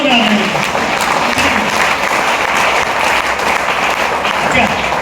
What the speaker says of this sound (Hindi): ताली जोरदार बजाइए